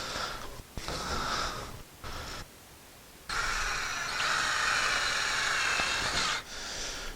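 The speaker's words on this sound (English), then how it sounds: "I'm going to use a drill because I do everything like this." A power drill drives cam lock bolts while an IKEA Pax wardrobe is assembled, giving several whirring bursts of varying length, with short pauses between and one longer sustained run near the end.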